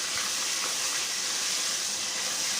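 Ginger paste frying in hot oil with bay leaves and a pinch of asafoetida, a steady, close sizzling hiss that stays even and unbroken throughout.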